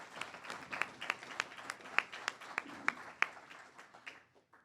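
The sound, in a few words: graduation audience applause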